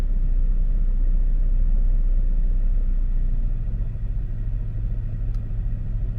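A Jaguar S-Type R with a newly replaced rear gearbox mount runs at around 1600-1800 RPM, a steady low engine rumble and drone that eases slightly partway through, heard close by.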